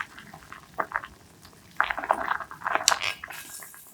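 Kohlrabi broth for a Korean-style dish just coming to a boil in a pot, giving quiet, irregular bubbling and gurgling bursts with no voices.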